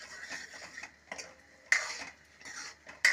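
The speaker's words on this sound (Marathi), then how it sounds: "आणि हे छान आता मी मिक्स करून घेणार आहे" A spoon mixes red chilli powder, salt and turmeric in a dish, giving soft scraping strokes broken by a few sharp metallic clinks against the bowl, close and fairly quiet.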